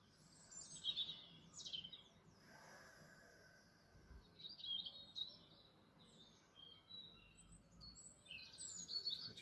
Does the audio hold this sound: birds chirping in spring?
yes